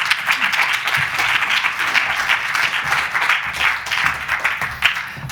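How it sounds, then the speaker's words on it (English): An audience at a positive psychology session claps in warm, sustained applause welcoming a professor as speaker, many hands together at an even, moderately loud level with no talk. "I want you to give a huge round of applause, please, to Professor Ciaran O'Boyle."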